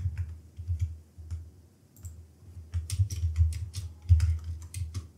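Computer keyboard typing in irregular bursts of soft clicks, quiet and close, with short pauses between runs of keystrokes and no voices.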